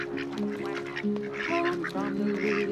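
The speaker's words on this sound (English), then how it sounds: "The one little duck with a feather on his back, he led the others with a quack, quack, quack" Ducks quack in a children's farm song, the calls mixed into a steady bed of sung melody and backing music.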